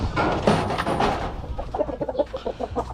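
Chickens cluck near at hand in a loose, irregular run of short notes that grows busier toward the end, with a burst of rougher fowl noise early on.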